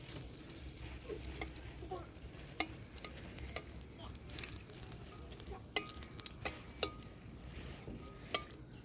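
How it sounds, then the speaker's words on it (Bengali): Four whole dried red chillies fry in hot oil with a soft, steady sizzle, close but quiet, punctuated by a few light clinks of a utensil stirring in the pan. "এবার দিয়ে দিচ্ছি গোটা শুকনো লঙ্কা 4টা"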